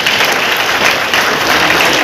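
Loud, steady applause from an audience at a municipal sanitation workers' day celebration held in the Gangavathi city council premises, sustained clapping filling the whole moment with no voices over it.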